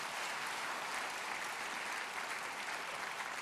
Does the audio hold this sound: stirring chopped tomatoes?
no